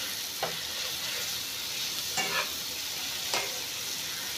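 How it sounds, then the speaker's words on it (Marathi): Onion and tomato frying in oil in a pan, a steady close sizzle with a few brief stirring scrapes breaking through at intervals. "आता हे व्यवस्थित बारीक भाजून घेणार आहे अगोदर तेलामध्ये"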